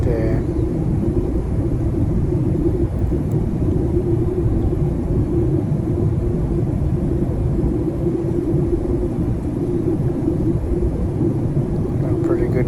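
An airliner cabin descending toward landing near Seattle, a steady, loud, low rumbling roar of engines and airflow that fills the whole stretch without letting up.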